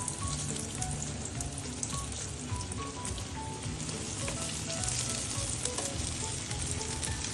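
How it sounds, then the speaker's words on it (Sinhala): Flour-coated homemade crispy chicken frying in oil over medium heat, a steady dense sizzle and crackle running continuously, close and fairly loud, no voices. "තෙලේ වැදගමු"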